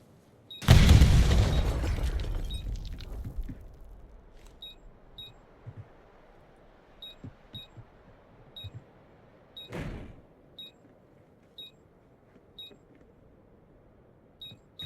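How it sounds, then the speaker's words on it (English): A bomb detonates in Black Ops 6 with a loud, close boom that rumbles and fades over a few seconds, followed by faint game clicks, small pops and a sharper burst later. "I'm just gonna let this bomb blow up."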